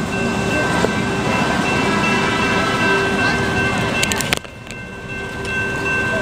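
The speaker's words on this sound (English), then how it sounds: "And this is me missing my train." Train pulling away from a platform, a loud continuous rolling rumble and clatter with a few brief squeals near the end, then an abrupt drop as it moves off leaving quieter ambience.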